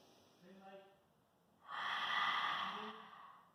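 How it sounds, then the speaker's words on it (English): A Pilates class exhale: a long, breathy, close-up breath out that rises sharply and fades over a couple of seconds, following a soft spoken voice. "And big breaths out."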